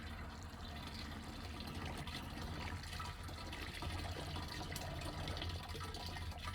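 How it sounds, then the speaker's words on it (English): A steady, low rush of water draining from an RV fresh water line, continuous and fairly quiet, with no talking. "We're catching the water here."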